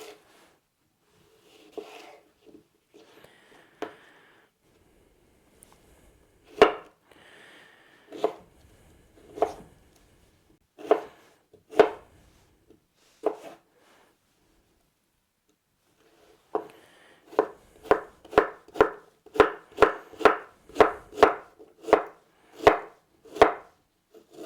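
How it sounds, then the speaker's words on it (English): Sharp knife strokes on a cutting board dicing food into small cubes for salsa, first as scattered single chops, then a fast regular run of about a dozen crisp taps. "some I'm going to cut into little cubes for my"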